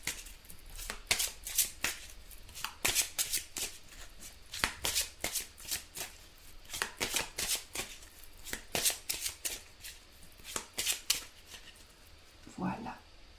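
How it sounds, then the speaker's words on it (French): Angel oracle cards being shuffled by hand, a quick run of crisp, close riffling flicks in an uneven rhythm, with a brief voice near the end. "On va piocher une petite carte des anges pour vous."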